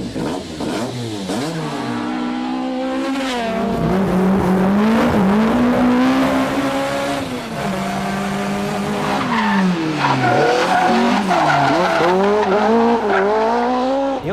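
A Toyota Corolla AE86 driven by a Japanese drifter sliding along a mountain touge road, its engine wailing through sustained revs while the tyres squeal loudly and continuously throughout.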